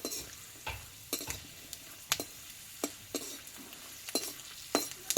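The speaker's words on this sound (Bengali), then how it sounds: "দেখো বাদামগুলো ভাজা হয়ে গেছে আমি তেল থেকে এবার তুলে নেবো" Soft sizzling of peanuts frying in hot oil, broken by sharp, irregular scrapes and clicks of a utensil stirring the pan.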